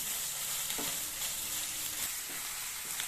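Curry leaves sizzle and crackle in hot oil in a frying pan, a steady frying hiss with occasional light pops and stirring sounds.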